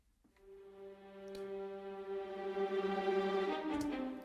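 Solo violas from the LUX Orchestral Strings library holding a sustained legato tone that morphs into tremolo, with a rising bowed texture and a brief bright accent near the end.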